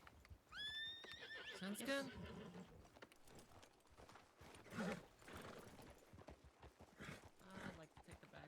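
A horse whinnies loudly in a Wild West roleplay video game, followed by clip-clopping hooves and more snorts and neighs, with players talking over it.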